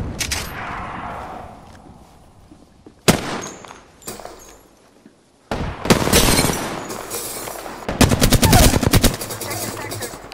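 Gunfire in the video game Apex Legends: isolated loud shots, then heavy rapid automatic bursts, close and dominant, with intermittent quieter game sounds between.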